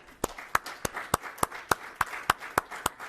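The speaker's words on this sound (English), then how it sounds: "if we can give all of our recipients a round of applause" A small gathering claps for award recipients with a sparse, regular pattern of sharp, distinct claps about every quarter second, close and clear over a quiet background.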